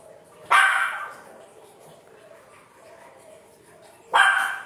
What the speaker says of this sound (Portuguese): Estamos aqui com uma cachorrinha latindo por causa dos outros cachorros na rua